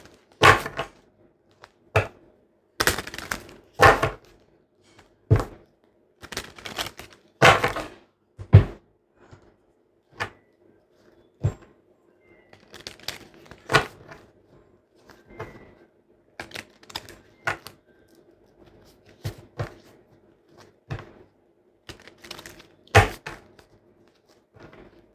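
Tarot cards shuffled by hand in a series of crisp riffling snaps and bursts, uneven in rhythm, close and fairly loud, with no talking.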